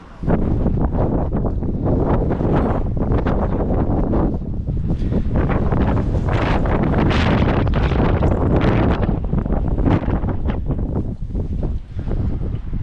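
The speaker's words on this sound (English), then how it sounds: "the wind is blowing in this direction" Strong wind buffeting at a dusty, sandy dig site, roaring continuously and loudly across the microphone with gusty surges throughout.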